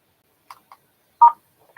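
Telephone keypad tones pressed while navigating a voicemail menu, three short separate beeps spaced across a quiet line, the third louder and longer, with another starting at the end.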